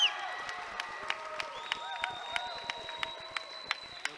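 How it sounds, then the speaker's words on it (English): The Richland home crowd at a high school basketball game cheers and claps in a steady, moderately loud roar, with sneaker squeaks and sharp court sounds cutting through at short intervals. "The Richland crowd is on their feet with excitement."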